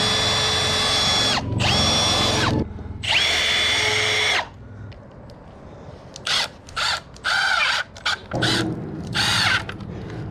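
A power drill bores holes into a wooden trailer bunk while a Ranger boat trailer's bunks are being replaced, running in several loud, close bursts of whining motor with short pauses and brief stop-start pulses between them.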